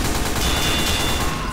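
Dense, continuous gunfire from a Team Fortress 2 match, a loud rapid fusillade of overlapping shots filling the short stretch without pause.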